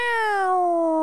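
A voice imitates an electric car's whine, a sustained tonal hum that glides slowly downward in pitch over about a second, loud and close.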